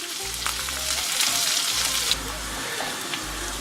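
Small onions (shallots) sizzle and fry in a pan while being stirred, a loud steady crackling hiss with scraping strokes of the spoon close by.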